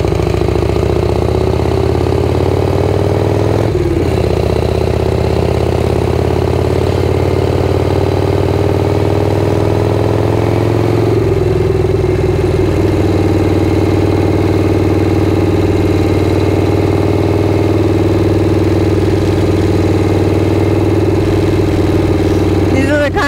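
A motorcycle engine runs while riding through a quiet retirement neighborhood, a steady, close mid-pitched drone that holds for the whole stretch and shifts slightly in tone partway through.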